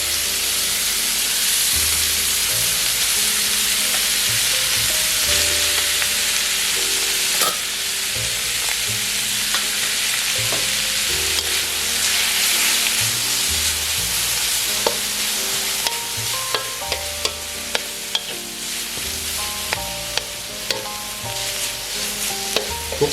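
Boiled Mama instant noodles stir-fried in fried garlic oil sizzle and hiss steadily in a hot pan, with a scraping spatula and a run of sharp clinks toward the end, and no talk.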